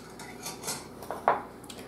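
Leftover chicken burrito filling with raw red onion mixed in a bowl, heard as a few soft scrapes and one sharper clink of utensil on dish, close and quiet with no talk.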